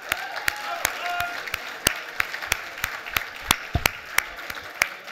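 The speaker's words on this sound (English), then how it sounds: "big round of applause for Chuck Nice" Sparse applause for comedian Chuck Nice at a charity gala, with separate sharp claps repeating at irregular intervals over a low murmur of the room.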